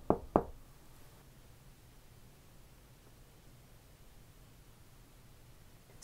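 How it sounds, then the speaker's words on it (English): Two sharp knocks in quick succession inside a house, the Conjuring house, right at the start, followed by several seconds of quiet hiss and a faint tap at the very end. "Speaking of that knocking noise, we actually also heard that."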